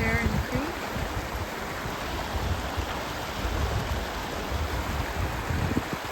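Creek flowing beside a cabin on a frozen 25-degree morning, a steady broadband wash of running water close by, with faint wind and a brief voice at the start.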